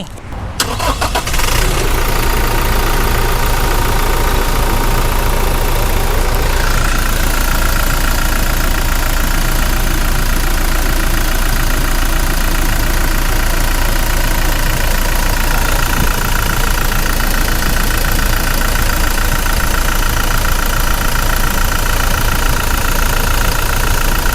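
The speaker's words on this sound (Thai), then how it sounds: "ฟังเสียงเครื่องยนต์กันหน่อย" A 2018 Toyota Revo 2.4E pickup diesel engine starts up and settles into a steady, close idle that runs unbroken for the whole stretch, with a low continuous rumble.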